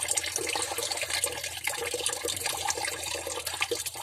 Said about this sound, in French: Vous attendez que ça se vide. C'est l'eau qui est encore dans les tuyaux